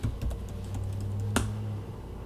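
Keys tapped on a MacBook Pro keyboard while a password is entered, a quick run of light clicks followed by a single sharper key strike near the end, with no talk.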